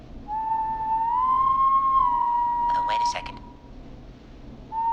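Someone whistles a sustained, gently rising and falling tune in the video game Killer Frequency, with a brief noisy burst partway through and a voice speaking in the clip.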